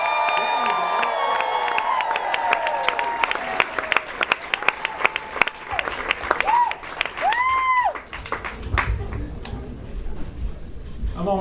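A theatre audience at a live storytelling event applauds and cheers, with dense clapping, shouts and whoops filling the room loudly before the noise thins toward the end.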